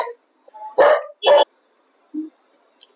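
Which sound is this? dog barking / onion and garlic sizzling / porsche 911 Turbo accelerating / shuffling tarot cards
dog barking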